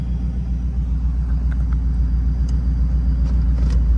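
A 1995 Chevrolet Camaro Z28 V8 idles just after startup with a steady, deep low rumble, close and even throughout, with a few faint clicks above it and no talk.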